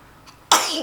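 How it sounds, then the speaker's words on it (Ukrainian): A single sharp, loud sneeze bursts out after a brief quiet moment, close by. "А це хто чихає? а це хто чхав."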